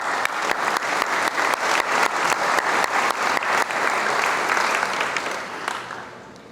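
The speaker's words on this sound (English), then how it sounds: "So please give yourselves a round of applause." A crowd applauds steadily, dense clapping filling the room at an even loudness before tapering off slightly at the end.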